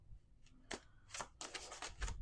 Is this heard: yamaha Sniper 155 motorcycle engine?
no